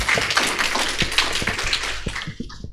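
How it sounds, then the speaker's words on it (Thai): A lecture hall audience gives a public lecturer a short burst of dense, brisk clapping that thins out and stops within a few seconds. "ขอเสียงปรบมือให้กับวิทยากรอีกครั้งนึงครับ"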